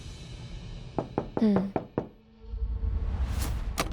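Several sharp knocks strike a door in a quick uneven cluster, close and clear, with speech before and a sudden loud noise following.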